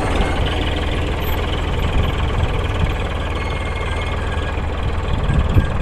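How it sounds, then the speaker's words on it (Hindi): Tractor engine running steadily while sowing wheat on raised beds in a field, a continuous low rumbling drone with slight knocking that holds at even loudness throughout, no talk. "अब ये ट्रैक्टर हमारा टर्न होके आ रहा है"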